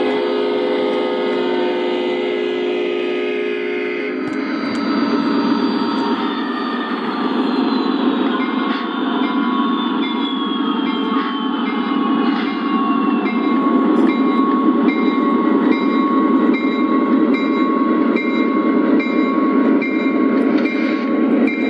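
Lionel Legacy O gauge model diesel locomotive running on track at a Conrail diesel day: a loud, steady electric motor whine and rumble with clicking wheels over rail joints, rising into a sustained drone, with no talking.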